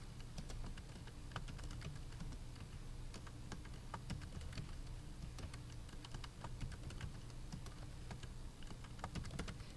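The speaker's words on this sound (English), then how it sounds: "And then I'm going to type in only the hours I teach science." Rapid typing on a computer keyboard while entering answers into a Google Form, steady clicking keystrokes throughout at close range with no talking.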